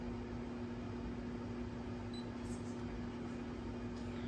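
A home embroidery machine runs a Fourth of July design in white thread, giving a steady, even mechanical hum with a constant drone throughout and no voices.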